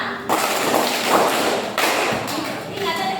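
At a Sunday school in GKS Wai Wei, Lindi Monung, a group of children play a hand-clapping game, landing several crisp, separated claps over steady room noise while voices talk in between.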